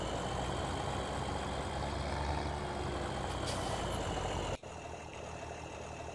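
Heavy truck engine in the Farming Simulator 2017 game, a steady loud rumble with hissing noise while reversing toward a trailer, cutting off abruptly near the end to a quieter hum.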